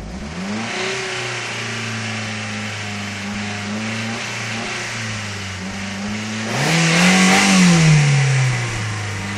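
A Mitsubishi Carisma 1.6 engine with one scored cylinder and low compression idles steadily up close, then revs briefly and drops back, loud and rough.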